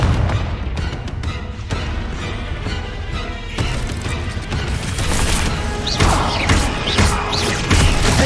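A Confringo fire spell bursts in Hogwarts Legacy amid dense, loud game combat noise, with crashing impacts and booming blasts packed through the whole stretch.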